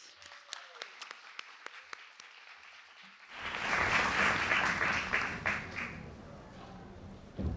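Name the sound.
audience applause for a panelist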